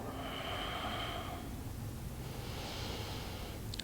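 Slow, deep breaths taken while holding a beginner yoga pose with both arms stretched upward, one long airy exhale followed by another, faint against a soft background hiss.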